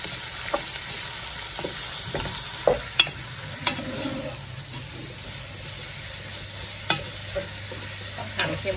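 Beef and curry paste for an Indian-style beef curry are stir-fried in a large pot, heard as quiet sizzling with scattered scrapes and knocks of the utensil against the pot, without talk.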